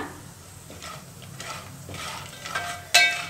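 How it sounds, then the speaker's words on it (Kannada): Spices fry over a low flame while a spoon stirs them in a pan, with soft scraping and gentle sizzling and a sharper clink near the end. "ಈಗ ಇಷ್ಟನ್ನೆಲ್ಲ ನಾವು ಸಣ್ಣ ಉರಿಯಲ್ಲೇ ಸ್ವಲ್ಪ ಹೊತ್ತು ಫ್ರೈ ಮಾಡೋಣ"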